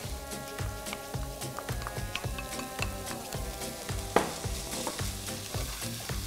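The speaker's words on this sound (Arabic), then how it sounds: "رح نزيد نقلي مع البصل" Crushed garlic and coriander sizzle with onion in a pan as a continuous frying hiss, broken by light ticks and clicks from stirring. No one speaks.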